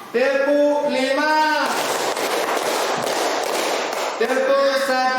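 A group in an Indonesian classroom claps together in a dense, loud burst lasting a few seconds, with voices heard just before and after.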